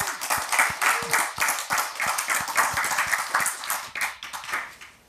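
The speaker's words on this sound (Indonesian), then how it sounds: "Tepuk tangan buat Kiai Haji Marzuki Mustamar." Steady applause from a crowd at a religious talk, many hands clapping continuously for several seconds before tapering off slightly at the end.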